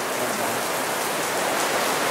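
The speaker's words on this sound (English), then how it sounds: "There's a big storm coming through." Heavy rain from a big storm pours down steadily, a dense, even hiss of drops drumming on surfaces, loud and close throughout with no pauses.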